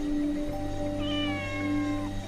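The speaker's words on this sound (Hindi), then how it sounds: "वो बस एक बिल्ली है।" A cat meows once in a drawn-out, wavering call, close and clear over a steady low hum, in a Hindi-dubbed anime.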